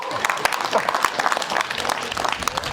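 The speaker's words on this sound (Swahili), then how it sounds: "Kama sisi ni smart tumpigie makofi." An audience at the Kirinyaga Leadership Forum in Kenya bursts into brisk applause, many hands clapping in dense, uneven bursts close by, with scattered crowd voices mixed in.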